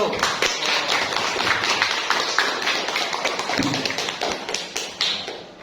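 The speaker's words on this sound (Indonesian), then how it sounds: "kasih applause buat kelompok 1" A classroom group claps for a student group after their presentation, a steady crowd of hands applauding near and loud for several seconds with a few voices murmuring underneath.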